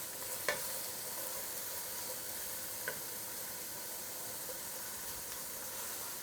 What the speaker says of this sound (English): we're just going to cook those until the onions begin to wilt and the garlic gets a little bit golden